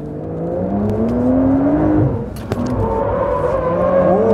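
A Porsche 911 Dakar on high off-road tires is driven hard, its loud engine rising in pitch, dropping briefly at a gear change, then pulling again.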